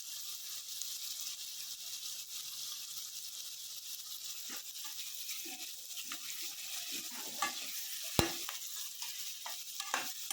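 Onions frying in oil in a pot as turmeric is stirred in, a soft steady sizzle underneath with scattered scraping spoon strokes and a sharp clink near the end, close and fairly quiet, no talking.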